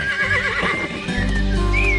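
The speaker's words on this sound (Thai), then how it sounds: "ม้าฟรายแบกเกอร์" A Freiberger horse, the old Swiss breed from the Franches-Montagnes region of the Jura, gives a loud, close whinny with a rising, wavering call, and hoof clip-clops are audible beneath it.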